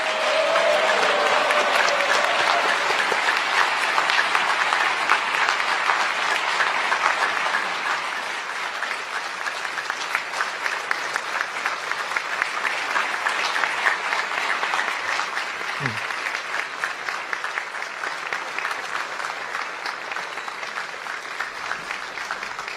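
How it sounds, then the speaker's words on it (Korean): A large audience applauds after a South Korean presidential speech, sustained dense clapping that holds steady for over twenty seconds before thinning slightly. "다시 한번 대통령님께 큰 박수 보내주시기 바랍니다"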